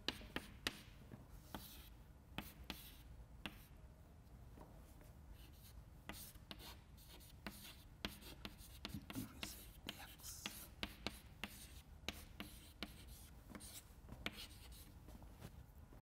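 Chalk or marker writing on a board during a fluid dynamics lecture. Faint scratchy strokes and taps come in irregular bursts, quiet and close, with soft background sound.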